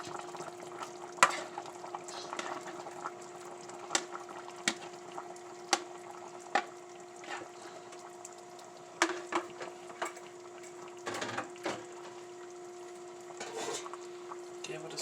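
Shrimp being stirred into a pot of stewed catfish, a spoon scraping and clinking against the pot in scattered sharp taps over a steady low hum, with soft sizzling beneath.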